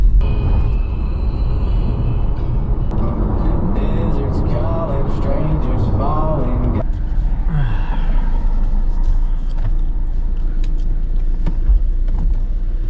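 Low, steady road rumble of a van driving along in traffic, with a brief voice or two partway through and occasional rattles of things moving in the back over the continuous engine drone.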